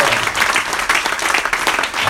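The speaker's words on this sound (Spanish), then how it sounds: "Fuerte ese aplauso." A church congregation claps loudly during a sermon, dense and uneven applause with surging bursts, close and full, sustained throughout without any talk.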